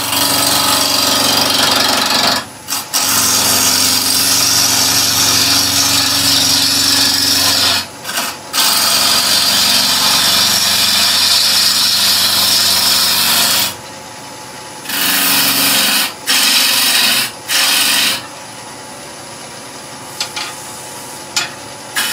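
A wood lathe spins a wood blank for tealight holders, with a loud, steady rasping hum of the tool cutting, broken by short gaps as the turning stops and restarts.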